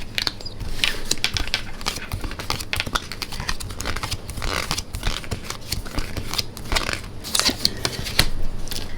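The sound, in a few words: shuffling oracle cards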